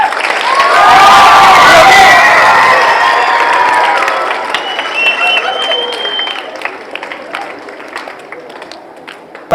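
A school assembly crowd breaks into loud, sustained applause with cheering and children's shouts that swell early, then gradually thin out into scattered clapping.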